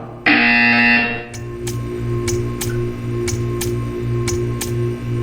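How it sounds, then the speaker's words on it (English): A loud electronic buzzer in the video game Portal 2 sounds for about a second, followed by a steady hum with regular ticking clicks. "You will hear a buzzer."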